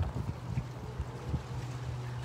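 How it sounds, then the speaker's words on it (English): Gusty wind outdoors on an evening buffets the microphone with low, uneven rumbling that swells and dips throughout, alone and fairly faint, with a steady low hum beneath. "Little windy out here tonight."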